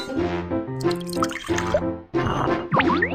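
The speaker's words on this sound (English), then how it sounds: "Mix latex and water." Water is poured into latex for a paper craft, with gurgling, dripping liquid and rising pitch as the container fills, interrupted by brief pauses and sloshing stirs, close and alone.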